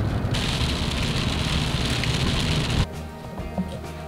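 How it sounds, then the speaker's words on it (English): Rain begins falling outdoors as a dense, steady hiss that fills the first few seconds, then drops away sharply to a quieter patter with scattered drops. "It's starting to rain."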